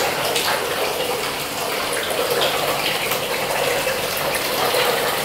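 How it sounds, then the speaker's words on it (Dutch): A bathtub filling with water from the tap, a steady hissing gush of running water that stays close and loud throughout, with no talk. "Zoals jullie zien gaan we nu het bad vol laten lopen."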